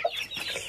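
A hen gives a short burst of clucks nearby, brief and fairly clear.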